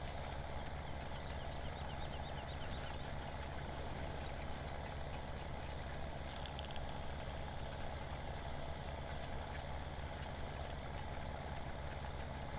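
A 1965 tractor engine labours up a steep field, a steady low diesel drone with a knocking rhythm running evenly throughout, close and continuous, with no voices.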